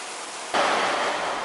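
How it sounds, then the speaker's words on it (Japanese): Sudden heavy rain starts pouring down in Bangkok, switching abruptly from a quieter background to a loud, dense, steady hiss. "急に雨が降ってきました"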